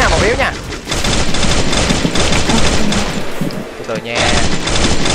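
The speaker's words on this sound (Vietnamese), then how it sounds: "rồi mình bắn tới hết đạn luôn" Dense, rapid automatic gunfire in a Vietnamese online shooter game rattles loudly and almost without pause, broken by a brief lull near the end, while someone talks over it.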